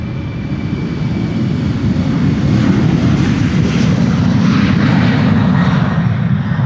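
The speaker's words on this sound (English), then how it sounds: "This is an Embraer 190 to Göteborg, KLM flight" A KLM Embraer 190 jet roars down the runway on its takeoff roll at Amsterdam Schiphol, a loud, steady, broadband engine rumble heard up close and alone, swelling slightly as it passes.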